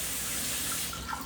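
Water draining and trickling out of a container of freshly rinsed leca clay pebbles, a steady close rushing flow that continues alone without a break.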